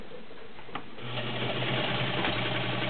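A vintage Domestic 1465 sewing machine starts after a moment of near quiet and runs with a steady, close whirring hum that continues to the end.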